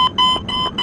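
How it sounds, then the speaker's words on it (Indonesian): A mobile phone alarm beeps in a steady repeating pattern of short electronic tones, close and clear, heard alone outside a tent on a mountain campsite. "ada suara alarm HP dari luar tenda."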